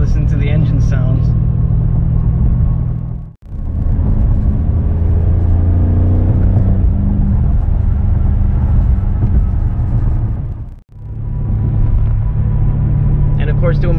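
A 2021 BMW M5 engine drones at low pitch while driving, a steady rumble heard from inside the cabin with two brief gaps, and a voice talks over it throughout.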